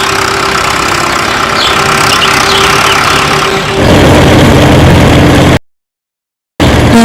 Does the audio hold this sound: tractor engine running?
yes